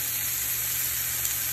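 A hamburger steak frying in a pan as it is turned over, giving a steady bright hiss of sizzling fat that stays constant and close, with no voices.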